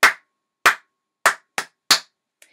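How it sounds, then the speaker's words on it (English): Sharp hand claps ring out alone in a simple rhythm: evenly spaced claps, then two quicker ones close together, ending with a faint soft tap. "I'm going to clap some different rhythms"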